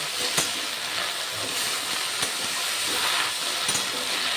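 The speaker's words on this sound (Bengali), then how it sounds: "নেড়ে চেড়ে আমি একটু ভেজে নেব এই লাউ পাতাগুলোকে।" Bottle gourd leaves fry in a pan, giving a steady hissing, steamy sizzle with a few brief stirring knocks, close and continuous with no talk.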